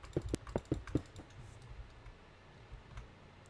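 Rapid keyboard and mouse clicks from someone playing Minecraft on a PlayStation 5, about half a dozen sharp, close taps bunched in the first second, then quiet room tone.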